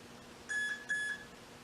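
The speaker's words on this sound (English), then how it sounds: "Should get a little beep." Two short, clean electronic beeps from an RC race truck's speed controller, each about a quarter second with a brief gap between, fairly quiet in a still room.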